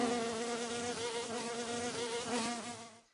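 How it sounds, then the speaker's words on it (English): A mosquito buzzes steadily and close, a continuous droning whine with a slight wavering pitch that holds for about three seconds before cutting off. "The mosquito is an insect that feeds on the blood of other animals."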